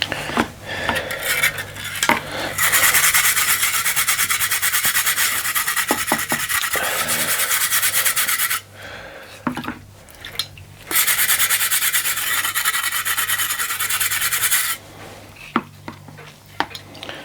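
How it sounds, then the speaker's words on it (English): Old paint being rubbed off a 1949 Mamod Minor 1 model steam engine, a steady abrasive scraping in long sustained strokes, broken by a couple of brief pauses and a few light clinks, close and alone with no talk. "So we'll give it a bit of a rub down."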